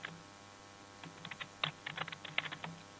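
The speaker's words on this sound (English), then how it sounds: "so we're going to type in" Quiet, close typing on a computer keyboard in Excel: a short burst of irregular keystrokes entering a spreadsheet formula, starting after a pause and clattering on for about two seconds with no talk.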